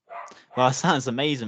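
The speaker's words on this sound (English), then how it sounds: "I'm not sure if you can hear my dog in the background" A dog barks faintly in the background at the start, followed by someone talking over it nearby.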